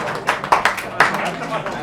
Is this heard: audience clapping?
yes